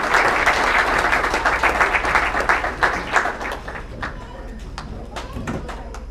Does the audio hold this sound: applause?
yes